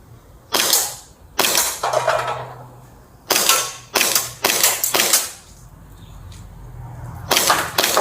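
A Tokyo Marui Beretta airsoft pistol fired repeatedly, sharp loud mechanical cracks with a clacking slide, single shots and quick doubles spaced irregularly, close by with no voices.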